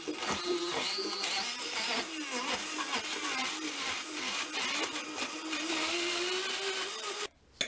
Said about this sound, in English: We're lucky enough for our Vitamix to have a frozen dessert selector.